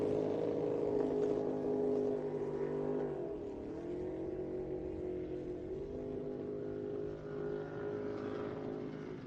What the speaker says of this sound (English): you can actually hear the thunderstruck boat, Andrew Cook. That boat's breaking down